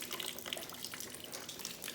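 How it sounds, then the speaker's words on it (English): Water leaking through a ceiling into a bucket indoors during a Texas winter storm, a soft steady trickle with scattered small drips and splashes, fairly faint and close, with no talking. "as you can see the water is very thick in this side. Make sure it's going in the bucket."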